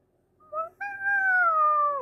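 A single drawn-out meow after a short chirp, close and fairly clear, alone with no talk around it.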